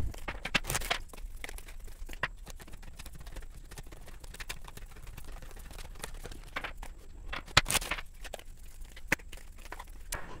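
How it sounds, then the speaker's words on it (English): An oracle card deck being shuffled by hand: quiet, irregular papery rustles and sharp snaps of cards, with a few louder riffles, close and alone without talk. "I went ahead and shuffled the deck"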